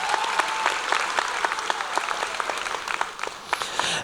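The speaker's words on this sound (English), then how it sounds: "I would like to give a round of applause for my fellow graduates who are here on stage tonight" Steady applause from a large audience at an Enterprise High School and Adult Education graduation ceremony, dense clapping with a few sharper individual claps standing out, sustained for the whole stretch before tapering at the end.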